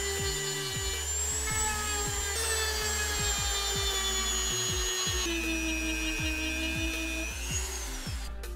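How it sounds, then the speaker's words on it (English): A whining power sander or rotary tool works on a prop prosthetic leg, holding a continuous high-pitched whir with rhythmic pulsing and small pitch shifts, close and loud throughout. "I'm gonna go ahead and sand that down just a little bit"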